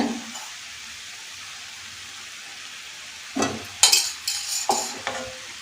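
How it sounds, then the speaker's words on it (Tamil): Cauliflower in a pan, just coated with a ladle of oil, quiet at first, then several sharp scraping and clinking stirs over a faint sizzle toward the end. "சேர்த்துட்டு லைட்டாக மட்டும் மிக்ஸ் பண்ணி விட்டுக்கணும்"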